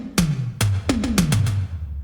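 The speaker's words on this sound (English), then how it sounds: "Let's have a look at the floor tom." A synthwave floor tom from Smash and Grab presets, heavily compressed, struck about seven times in an uneven pattern, each hit a punchy attack with a booming pitched body sliding downward, close and alone.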